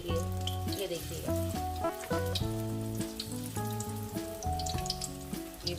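Battered eggplant pieces fry in hot oil, a dense continuous sizzle with crackling pops running beneath prominent background music.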